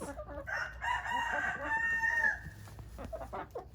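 Cream Legbar hen, a brown and red chicken with a floppy comb, clucking on a ranch among other fowl, with a busy, layered chorus of bird calls and crowing under faint background noise.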